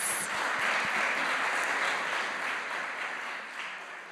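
An audience applauding conference panelists, dense clapping that starts strong and slowly thins and fades over a few seconds.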